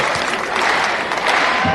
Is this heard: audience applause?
yes